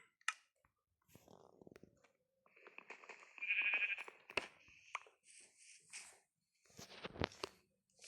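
A sheep in Minecraft gives a short, thin bleat among scattered game clicks and hits, quiet and isolated, with someone speaking briefly in between.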